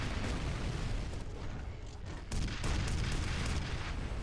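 Grenade blast in the video game F.E.A.R., a heavy, loud rumbling roar that fills the whole moment and swells again midway before trailing off.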